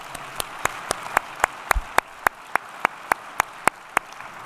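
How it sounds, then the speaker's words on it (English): Sharp, evenly spaced claps ring out in a steady rhythm over a soft background hiss, sounding like a single pair of hands clapping rather than a crowd, at an awards ceremony. "Let's give them a round of applause."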